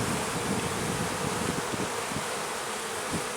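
A dense, steady hum of honey bees buzzing fills an open hive during an inspection, close and unbroken, with faint rustling beneath.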